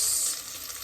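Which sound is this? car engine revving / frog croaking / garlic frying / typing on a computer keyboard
garlic frying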